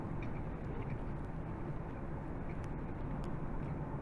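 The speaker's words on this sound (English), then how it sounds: "the road noise in this car, compared to my CRV" Inside a 2024 Honda CR-V while driving, a low, steady road rumble and tire hum fill the cabin quietly and evenly, with no voices.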